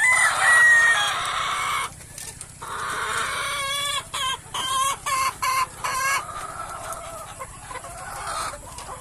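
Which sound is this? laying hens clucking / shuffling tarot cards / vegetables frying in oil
laying hens clucking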